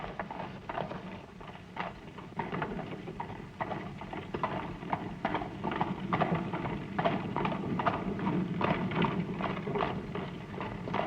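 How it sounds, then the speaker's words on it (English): Steady clip-clop of a horse's hooves pulling a cab, a quick repeating rhythm at moderate distance, continuing evenly throughout. "we'll go up and see that horse"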